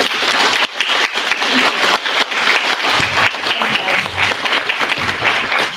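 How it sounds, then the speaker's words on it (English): Loud, close audience applause at an award recognition ceremony, a dense wash of many hands clapping continuously with slight swells, and no talking over it. "So let's give them a round of applause."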